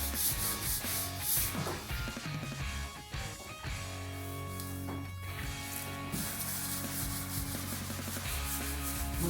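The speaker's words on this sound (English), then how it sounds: "we wanna get all the mud sanded down" Wet sanding of drywall joint compound on a ceiling patch, close scrubbing and rubbing strokes that repeat irregularly, with no talking.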